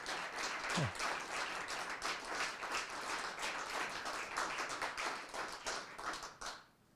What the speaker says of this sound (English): Let's give Howard a round of applause as well.